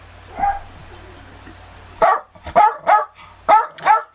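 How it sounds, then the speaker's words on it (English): Dog barking indoors, a run of five or six loud sharp barks in quick succession after a quieter stretch with a faint earlier yip. "I think you can hear my dog barking."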